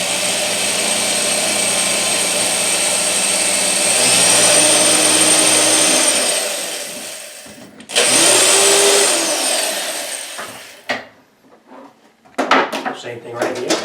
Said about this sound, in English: We're just going to drill a small hole in the wood.